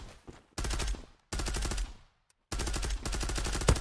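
Rapid automatic gunfire in the online shooter Zula, loud bursts of rattling shots separated by short silent gaps, close and clear with no talk over it.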